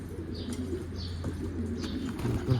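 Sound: pigeon cooing on the roof

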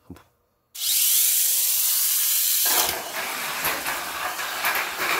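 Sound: toy car motor running

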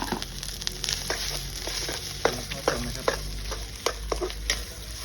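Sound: stir-frying rice in a pan

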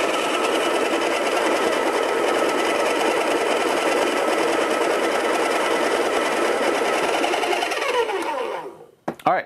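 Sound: Baratza coffee grinder grinding beans

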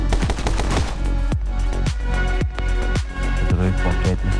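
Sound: gunfire in the video game My Friend Pedro

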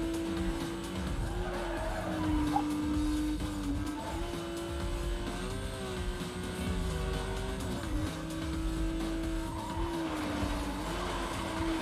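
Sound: race car engines and tire squeal in video game

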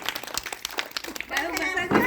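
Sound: children clapping

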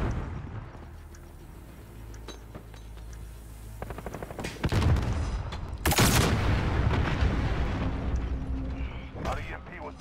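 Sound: stun grenade thrown in a shooter video game

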